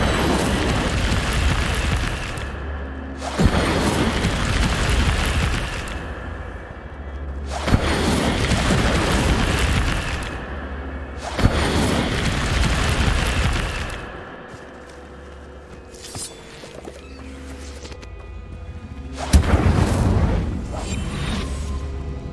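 Incendio fire spell cast repeatedly in a Hogwarts video game, several loud whooshing, roaring bursts of flame a couple of seconds each, separated by brief quieter gaps, with a final burst near the end.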